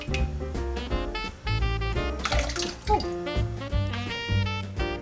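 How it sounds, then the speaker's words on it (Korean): Running tap water splashes over grapefruit being rinsed several times in a sink, with gurgles and irregular splashes close up and no speech. "물로 깨끗하게 여러 번 헹궈내줍니다"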